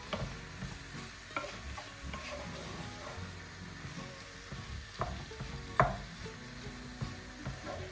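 A spatula stirs onions and cream in a pan for lasagna, with a soft sizzle and intermittent scraping and clinks against the pan, close and fairly quiet.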